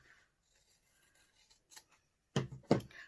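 Scissors slice through quilt fabric along a drawn blue centre line, a few faint snips building to two louder, crisp cuts near the end, quiet and close with no talking.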